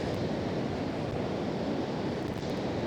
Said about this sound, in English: those waves will actually come and clean that beach up.